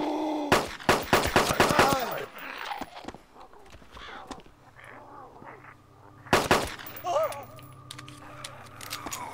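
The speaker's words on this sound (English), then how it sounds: "Shooting isn't the easiest thing in this game" Gunfire from a weak gun in the ArmA 2 DayZ Mod game: a rapid burst of several loud, sharp shots at the start, then a second short burst midway, with faint ambient game noise between.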